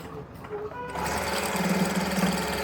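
A sewing machine stitches fabric for a palazzo waistband, starting after a brief quiet moment and then running steadily with a fast, even mechanical whir, close and fairly quiet.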